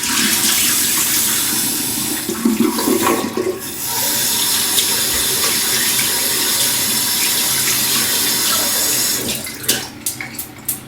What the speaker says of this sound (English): clean the sink, clean the brush